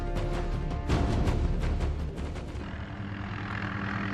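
A Cobra attack helicopter that has just landed after a long training flight gives off a loud, close, pulsing rotor chop. The chop gradually gives way to a steadier, softer engine whine as it winds down, and no one speaks.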